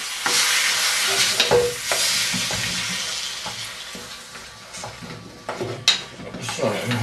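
Chopped tomatoes sizzle in a curry pan while being stirred, a steady frying hiss with scraping and clinks of utensil against the pan, fairly close and busy throughout.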